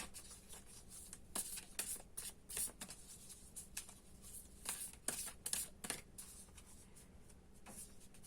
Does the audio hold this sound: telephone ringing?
no